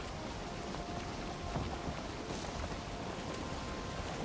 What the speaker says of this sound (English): Just in time for a storm.